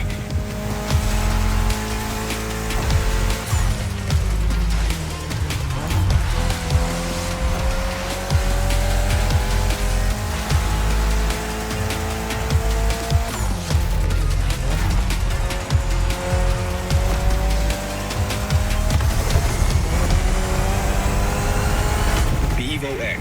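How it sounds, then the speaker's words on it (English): Mitsubishi Lancer Evo X engine in The Crew Motorfest racing game, loud and continuous, revving up through repeated gear shifts with rising and falling pitch sweeps and occasional tire squeal over game music. "your new ride, Touge's Mitsubishi Lancer Evo X"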